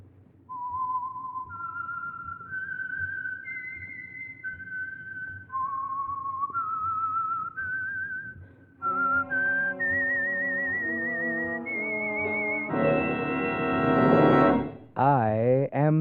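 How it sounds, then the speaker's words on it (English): A lone whistled melody of distinct rising and falling notes, the theme of an old radio mystery program, followed by a fuller sustained tonal passage ending in a wavering, swooping sound. "the signal to listen for is this whistle that identifies the Signal Oil program"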